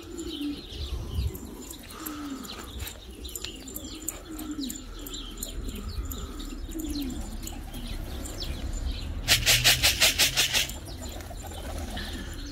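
Pigeons coo softly and repeatedly in the background, with scattered chirps, and a brief burst of wing flapping near the end as they gather to bathe in water.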